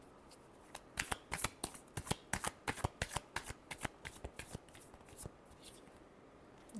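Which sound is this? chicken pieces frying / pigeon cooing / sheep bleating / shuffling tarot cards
shuffling tarot cards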